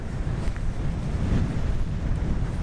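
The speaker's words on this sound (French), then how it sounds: "je crie parce que je sais pas si avec le vent vous m'entendez" Steady, heavy seaside wind buffeting the microphone while landing a kitesurf kite, a continuous low rumble with gusty texture and no other sounds standing out.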